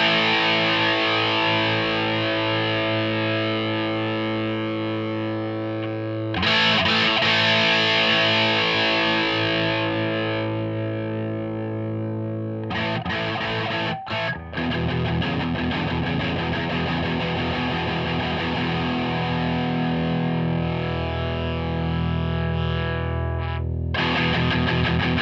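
Heavily distorted electric guitar chords through a Mooer Black Secret pedal ring out continuously, loud and thick, with a few abrupt changes in tone and attack as the filter cuts treble.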